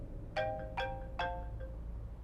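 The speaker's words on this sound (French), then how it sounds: "Mon téléphone sonne. Laisse-moi répondre." A mobile phone rings in three short, evenly spaced electronic bursts, faint over a low background hum, with no one talking.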